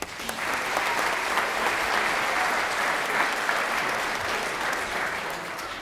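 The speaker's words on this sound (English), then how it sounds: "Please give her a warm round of applause." A full chamber of the Georgia Senate applauds a visiting school principal with sustained, even clapping from many people, steady and fairly loud throughout, with no talking.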